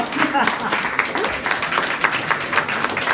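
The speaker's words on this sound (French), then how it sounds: "Vous pouvez applaudir aussi, c'est sympa." Audience at a literary prize ceremony applauding, a dense patter of many hands with some voices and crowd murmur mixed in beneath.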